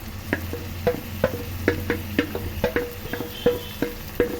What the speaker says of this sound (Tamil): இப்போ இந்த நேரத்தில் வந்து நம்ம மீனை போட்டுடலாம்.